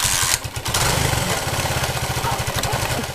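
An old secondhand motorcycle engine catches and runs with a loud, close, rapid chugging idle that holds steady throughout.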